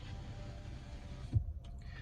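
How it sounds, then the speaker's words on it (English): An air conditioner runs in a hot Florida home as a steady, broadband hum that fills the background, then cuts out abruptly partway through, leaving near quiet with a few faint knocks. "Let me apologize for the AC noise in the back,"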